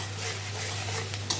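Turmeric, chili, coriander and cumin powders are stirred in a hot frying pan, a brief soft scraping swish over a low sizzle with a light tap near the end.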